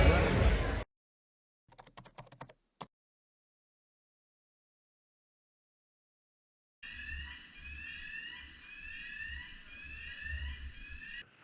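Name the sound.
terminal gangway bridge docking to cruise ship, alarm-like beeping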